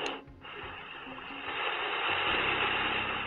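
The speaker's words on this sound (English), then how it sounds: "Yeah, that sounds like waves." B-Well ambient sound machine playing an ocean waves setting, a soft steady hiss of washing noise that swells slightly, faint and continuous with a low hum beneath.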